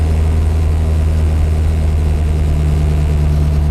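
A 1959 Moskvich 402 engine runs at a steady, loud, close idle after starting, a low rumbling drone with a constant, even pulse.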